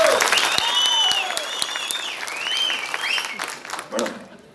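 An audience at a Kannada film trailer launch event for Sukhibhava claps steadily, with shrill rising and falling whistles cutting through and some voices mixed in, all fairly loud and close throughout.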